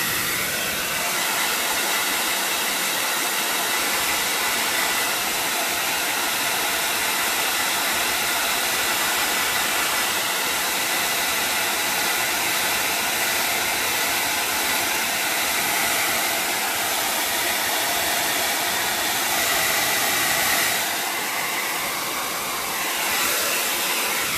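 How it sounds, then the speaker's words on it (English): A heat gun blows hot air over alcohol ink on Yupo paper, producing a loud, steady, broadband whoosh that runs unbroken for the whole stretch, with a slight shift in tone near the end. "If you use the heat gun on it, you want to stay up further. So let's just give this a quick blow."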